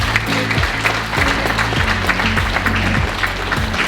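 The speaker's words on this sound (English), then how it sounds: "Give him a big round of applause, please." A conference audience at BrightonSEO 2021 applauds as a speaker is welcomed on stage, a steady dense wash of clapping over a low, droning tonal bed that runs the whole time.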